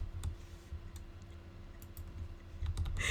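Quick clicking of computer keyboard keys, a light irregular patter of typing strokes at close range with brief busier bursts, no voices.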